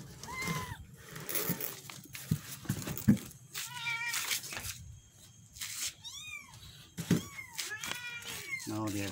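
Several small young cats meowing close by, a run of high, rising and falling mews and squeals that overlap and repeat, with a person speaking in between.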